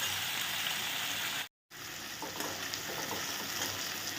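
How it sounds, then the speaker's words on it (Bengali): Pre-fried potatoes sizzle and crackle steadily in a pan alongside frying onions for a cabbage dish, with a brief momentary dropout partway through. "জাস্ট এটাকে একটু ভেজে নিচ্ছি।"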